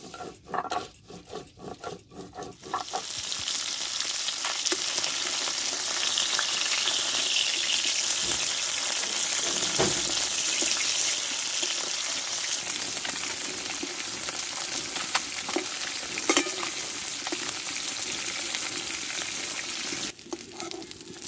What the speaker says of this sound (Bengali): দেখো মাছটা ভাজা হয়ে গেছে এবার তুলে নেবো আমি